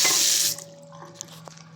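A kitchen tap runs briefly into a sink as drinking water is poured, a loud rushing stream for about half a second before it shuts off, leaving a faint hum and a few small drips.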